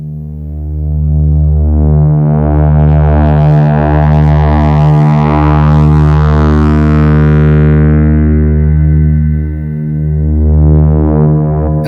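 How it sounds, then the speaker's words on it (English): A Behringer TD3-MO synth drones loudly through guitar pedals, a low buzzy sustained tone that brightens and grows more resonant as its filter slowly opens, with a few brief dips along the way. "if you slowly open up the filter, then you really start to hear all the character sounds of this filter"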